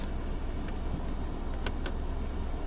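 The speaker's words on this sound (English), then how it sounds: "put it into drive and off we go" A Mercedes E200 with a 2-liter turbocharged four-cylinder pulls away, its engine and road noise forming a steady, even wash inside the car with a few faint clicks and no talking.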